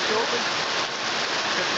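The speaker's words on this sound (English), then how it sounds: "you can't hear me because of the rain on the roof" Steady rain drumming on a roof fills the whole stretch, a dense, even hiss of close raindrops with no pauses.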